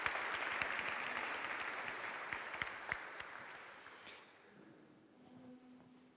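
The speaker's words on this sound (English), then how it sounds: "you can continue the applause for the four partners, Bart, Lisa, Mariano, and Mark." Symposium audience applauds a panel of four speakers at the end of a session, a broad steady clapping that fades out after about four seconds into near quiet with a faint low hum.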